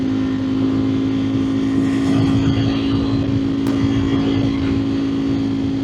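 Engine of a 2025 Ducati Streetfighter V4S motorcycle, a steady loud drone with strong low harmonics, running continuously and close by with no talk.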